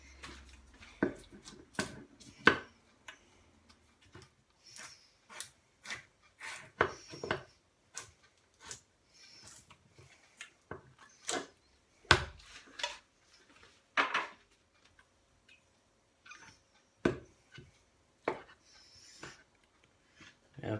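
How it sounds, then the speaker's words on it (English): A knife chops through tinned corned beef on a board in a string of sharp, distinct close taps at an irregular, unhurried rhythm, with no talking. "let's get this tin of corned beef opened and diced up"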